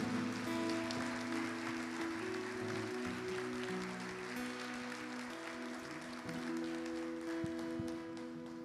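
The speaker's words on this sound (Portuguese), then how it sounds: "Vamos aplaudir o Senhor, porque Ele é digno." A church congregation applauds together during a worship service, a dense, continuous clapping wash over sustained musical tones, steady and moderately loud throughout.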